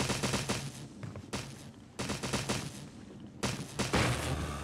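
Rapid bursts of gunfire in the Resident Evil HD Remaster video game, several volleys of sharp shots fired in quick succession, loud and close with brief pauses between bursts.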